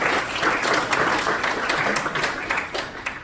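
An audience applauds with dense, fairly loud clapping that holds steady and then begins to thin out slightly toward the end.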